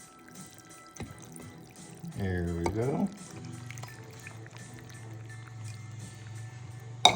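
Vegetable broth pours into a slow cooker for spicy chicken chili in one brief gurgling splash of under a second, while a person talks quietly nearby.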